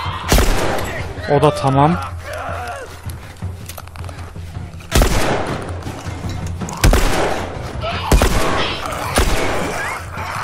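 The Last of Us Remastered combat: several loud, sharp gunshots ring out at irregular intervals, standing out from game noise and someone talking excitedly over the action.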